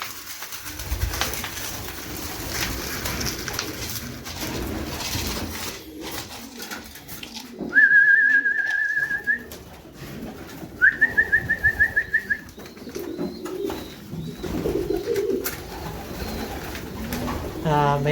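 Pigeons in a loft in Madrid, Spain coo and call in two short trilling bursts over a busy background of fluttering, shuffling and scattered rustling, with someone talking at times.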